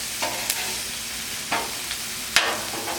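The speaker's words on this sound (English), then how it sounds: "After everything is sauteed for about 10 minutes, we're going to mix them together." Mushrooms and vegetables sauté in a pan with a steady sizzle, broken by a few scraping stirs from a utensil, close by and with no voices.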